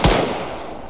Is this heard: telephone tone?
no